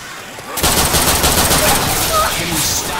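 Rapid gunfire in Left 4 Dead 2, loud bursts of automatic weapon fire that erupt suddenly after a brief quiet moment and continue densely, with faint game sounds mixed in.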